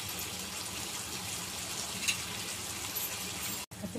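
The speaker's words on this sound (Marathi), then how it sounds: "छान आपल्याला साखर उतरेपर्यंत उकळून घ्यायचंय 2 ते 3 मिनिटं" Sugar syrup boiling in a pan for khaman dhokla, a dense, steady bubbling hiss heard close and unbroken, with a brief cutoff near the end and no talking.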